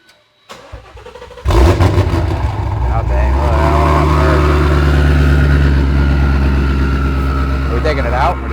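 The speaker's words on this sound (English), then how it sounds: "We've got our new exhaust system on here. We'll let you guys hear that real quick." A car engine with a newly fitted exhaust system cranks and fires up, then settles into a loud, steady, close idle with a deep rumble that holds to the end.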